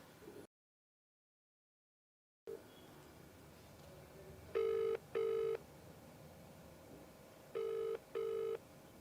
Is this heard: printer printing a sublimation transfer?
no